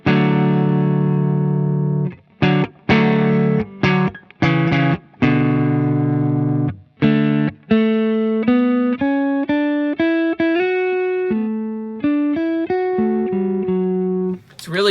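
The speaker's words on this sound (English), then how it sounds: "Bass mid-cut to get that typical Fender Twin sound" Electric guitar through a Helix Fender Twin amp model with mids cut, clean bright chords and single-note lines ringing with short gaps, loud and close, with no talk.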